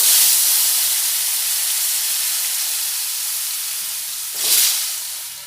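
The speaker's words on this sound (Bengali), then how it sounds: "এবার এই আলুগুলি ওই গরম তেলে দিয়ে দেব।" Potatoes frying in hot oil, a steady bright hiss close by that slowly eases off, with a brief surge of sizzling near the end and no speech.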